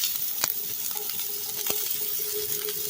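Onions fry in a hot pan over a campfire, a quiet steady crackle with a few sharp taps and pops scattered through.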